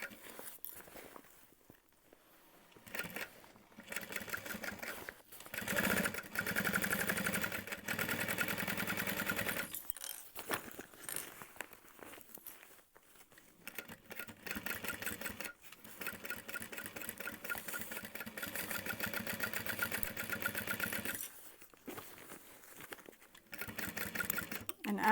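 A home sewing machine stitches a canvas Emma Backpack, its motor whirring in bursts of steady running broken by short pauses, fairly quiet and close.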